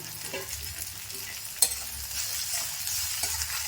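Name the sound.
eggs cracked and poured into pan with drumstick flowers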